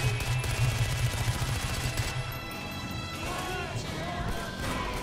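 Rapid gunfire from the game Far Cry 4 bursts in quick repeated shots for the first couple of seconds, then thins out under scattered shouting voices.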